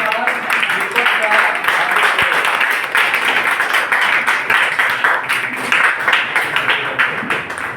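Loud, dense applause from a standing audience welcoming an invited leader at a business opportunity meeting, a steady wash of many hands clapping together that fills the room for several seconds without letting up.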